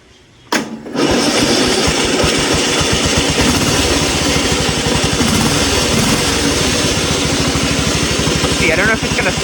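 A homemade racing lawn mower's small engine bursts into life with a sharp start, then runs loud and close with a fast, pulsing, rattling beat that holds steady as the machine gets moving.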